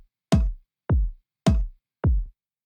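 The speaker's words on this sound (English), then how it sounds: "we've got a conga sound, which without any processing sounds like this." An unprocessed conga plays a short pattern of four crisp hand strikes, alternating a bright open slap with a duller lower tone, clear and close.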